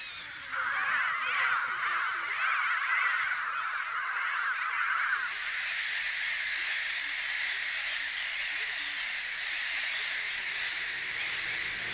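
A dense chorus of gulls and geese calling over a crowded breeding island where the gulls contest the geese's traditional winter resting place, a continuous loud layered din with no pauses.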